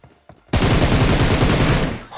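Rapid automatic gunfire from a shooting video game bursts in loud and close after a brief quiet start, a dense continuous volley lasting over a second and a half.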